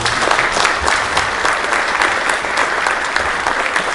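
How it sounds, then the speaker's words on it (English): A live audience at a Catskill community event breaks into a round of applause, loud dense clapping that holds steady throughout the few seconds. "So give her a round of applause, please."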